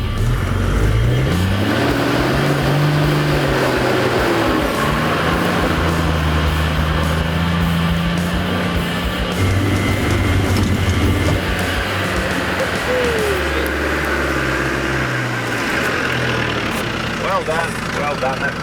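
A 60 series 4WD driving up a slippery, muddy track, its engine droning and revving through rising and falling gear changes, with people talking over it.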